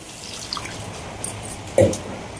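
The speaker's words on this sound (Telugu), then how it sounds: "ఇప్పుడు మునిగే వరకు నీళ్ళు పోసుకుందామండి" Water is poured over cut vegetable pieces with salt in a pot for sambar, giving soft trickling and a few drips, with a brief louder splash near the end, close and fairly quiet.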